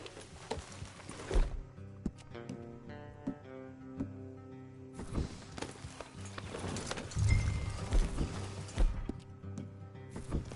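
A horse in the video game Red Dead Redemption 2 gallops with a steady, rhythmic clip-clop of hooves, moderately close, under a low background of game music.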